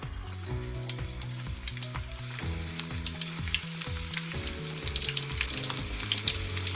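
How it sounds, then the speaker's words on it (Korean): Steady crackling sizzle of pork deep frying in hot oil, continuous and close, with a low rhythmic hum underneath throughout. "이렇게 튀겨주면 돼요."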